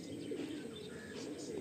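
Racing pigeons coo softly in a loft, low continuous murmuring with faint chirps, fairly quiet and steady throughout.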